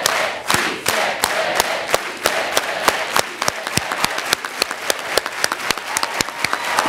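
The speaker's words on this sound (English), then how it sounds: "let's all do it with an organized hand clap" A commencement crowd claps in unison, building from a ragged start into steady, evenly spaced sharp claps that speed up slightly toward the end, loud and close with a faint crowd murmur underneath.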